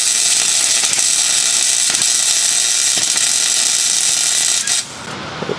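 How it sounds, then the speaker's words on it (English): A welder tacks a weld on a QFT 680 carburetor part, giving a loud, steady crackling hiss that runs unbroken for several seconds before cutting off abruptly near the end. "Get the welder over here and get ready to weld it."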